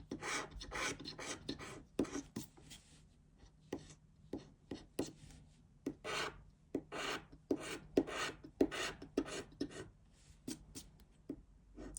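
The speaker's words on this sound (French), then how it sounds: "On viendra gratter les étoiles que je n'ai pas grattées tout à l'heure." Stars on a Morpion scratch-card lottery ticket are scratched off with a sharp, dry scraping that comes in irregular quick bursts with short pauses, close and fairly loud, with no voices.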